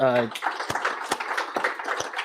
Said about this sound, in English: Can we please give our panelists one big round of applause?